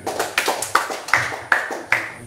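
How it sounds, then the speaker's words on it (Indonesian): Applause at an Indonesian government farewell ceremony for a retiring official, sparse and uneven, several close hand claps falling roughly every half second with a few quieter claps between them, with no talking. "Kita beri aplaus"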